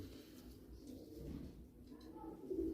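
Homing pigeons coo softly in a loft, with low throaty calls that are faint and a little distant over quiet background noise and grow clearer toward the end.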